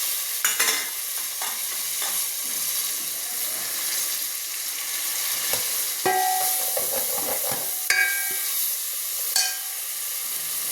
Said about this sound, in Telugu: సిమ్లో పెట్టుకొని వేయించుకోండి